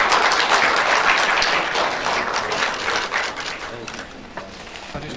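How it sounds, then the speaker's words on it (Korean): A hall audience at a Korean education award ceremony claps loudly and steadily, the applause thinning and fading gradually toward the end as the crowd settles. "여러분 큰 박수 부탁드리겠습니다"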